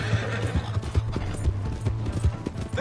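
Horse hooves gallop in Red Dead Redemption 2, with a quick, even clip-clop rhythm beating steadily at close range and loud.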